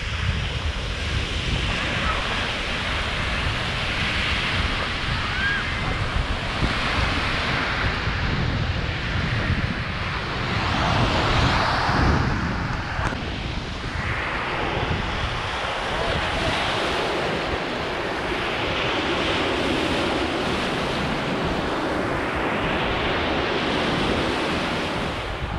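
Waves wash onto the beach at Vama Veche on the Romanian Black Sea coast, surging and receding in repeated swells beneath heavy wind buffeting the microphone.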